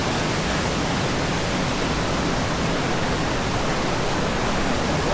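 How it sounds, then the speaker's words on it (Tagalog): A waterfall pours in a dense, continuous, loud roar of rushing water, constant and close throughout. "Waterfall."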